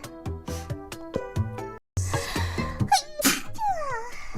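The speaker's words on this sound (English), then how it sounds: "I'm gonna sneeze." A streamer sneezes once, a sharp breathy burst followed by vocal noises and a short squeal, with background music playing under it throughout.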